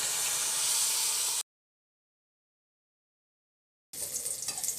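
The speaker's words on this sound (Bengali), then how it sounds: "আমি হালকা তেলেই ভাজছি বেশি তেলটা দেইনি" Pointed gourd (potol) frying in a small amount of oil gives a steady, fairly loud hiss that cuts out into silence for a few seconds, then returns.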